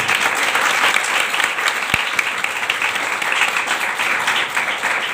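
Loud, sustained applause from a church congregation, dense clapping that carries evenly through the whole stretch with one sharp knock partway, close and with no speech on top.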